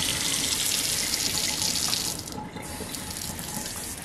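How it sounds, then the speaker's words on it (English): Tap water runs steadily into a sink to fill a newborn's bath, a continuous broadband rush that eases slightly partway through and then carries on, close and loud with no voices. "Oh, should we turn the water down a little bit?"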